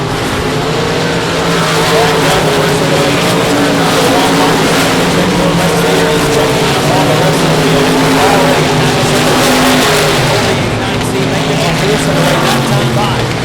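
Race cars lapping an oval at South Texas Speedway, engines roaring loud and continuous as they rise and fall through the turns, with a commentator calling the race over the noise.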